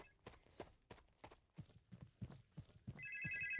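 Telephone ringing in a car mechanic video game, faint repeated tones over soft clicking and clattering, with a steadier ring near the end.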